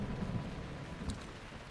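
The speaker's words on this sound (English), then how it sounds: "I hate the rain in this game" Rain and distant thunder in The Legend of Zelda: Breath of the Wild form a quiet, steady wash with a low rolling rumble and a faint brief patter.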